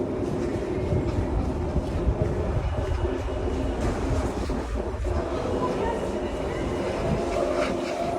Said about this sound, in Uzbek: Oxirgi metro ekan.